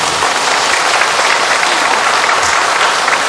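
Loud, close, sustained applause from a Catholic parish congregation at Sunday Mass welcoming new catechumens, a dense even roar of clapping throughout.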